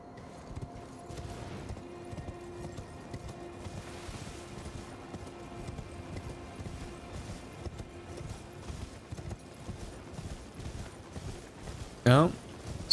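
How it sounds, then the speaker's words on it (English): Hooves clip-clop at a steady pace as a horse gallops across ground in Elden Ring, with ocean waves and wind in the background and a sharp crack near the end. "You step on the skulls. And the horse will crack them."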